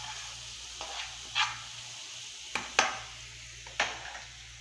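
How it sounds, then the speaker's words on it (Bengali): Ginger and garlic are stirred in a cooking pan over a soft steady sizzle, with a handful of sharp, scattered scrapes and clicks from the utensil, close up and with no talk. "একটু আদা রসুন গুলারে মিক্স করে রাখবো"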